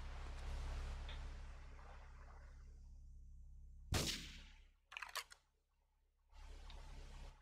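A sniper rifle fires once in GTA 3, a sharp loud crack that stands out over a steady low game background hum, followed by a brief clatter of smaller mechanical sounds.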